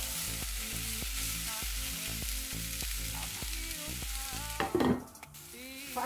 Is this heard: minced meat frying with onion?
yes